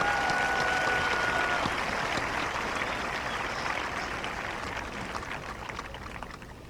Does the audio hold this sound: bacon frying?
no